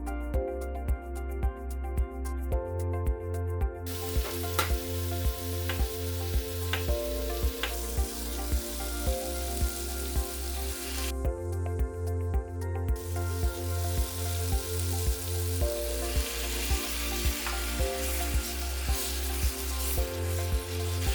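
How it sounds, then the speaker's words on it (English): Vegetables sautéing in a pan for ratatouille, a soft steady sizzle running underneath a loud, rhythmic musical backing track that pulses throughout. "While veggies are sautéing,"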